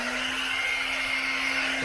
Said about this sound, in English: actually using a hair dryer to pretty much spread the fire equally